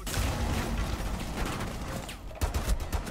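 Rapid gunfire in the tactical shooter Rainbow Six Siege, a dense continuous fusillade of overlapping shots heard close and loud throughout, with a few heavier bursts near the end.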